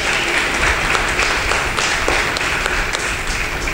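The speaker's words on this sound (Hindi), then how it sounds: "जोरदार तालियां खुदा के जलाल के लिए।" A congregation at a Hindi church sermon breaks into strong, sustained applause. The dense clapping is loud and steady and fills the whole few seconds.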